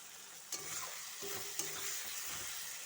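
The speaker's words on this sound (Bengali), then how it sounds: "পেঁয়াজটা ভালোভাবে তাড়াতাড়ি ভাজা হয়ে যাবে।" Onions sizzling steadily in a pan for a country chicken curry, with a couple of clicks from the spoon stirring, close and continuous.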